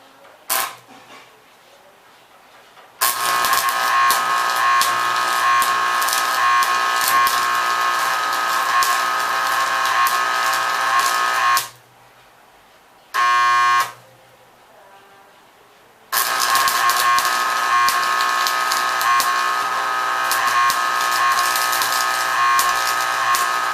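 Arc welding with a cast iron electrode at 200 amps produces a loud, steady crackling buzz in long bursts, broken by short gaps and a brief sputtering restart.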